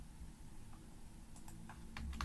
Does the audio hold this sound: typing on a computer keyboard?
yes